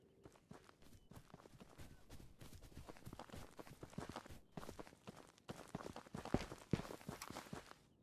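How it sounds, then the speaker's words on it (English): Footsteps in the multiplayer shooter Ghosts of Tabor, a steady run of soft, rhythmic steps lasting the whole stretch, moderately close with a few louder impacts near the end and no talk over them. "Wait, I hear footsteps."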